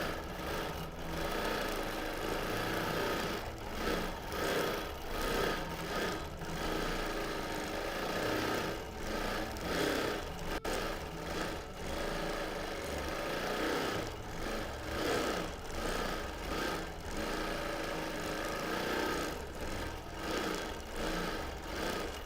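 A sewing machine running free motion edge-to-edge quilting across a quilt, a steady mechanical hum and rapid needle chatter that pulses gently in speed, continuous and close with no voices.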